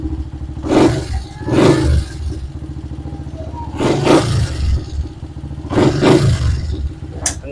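A Honda TMX125 motorcycle engine idles with a steady chugging rumble, rising in several loud revving bursts at regular intervals before settling back, heard up close with no talking.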